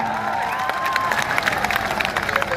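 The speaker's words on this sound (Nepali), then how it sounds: "धरान दाजुभाइ दिदीबहिनीहरूले ताली बजाउनु पर्छ क्या।" A crowd in Dharan clapping, a rattle of scattered hand claps over a busy background of voices and some cheering, moderately loud and continuous.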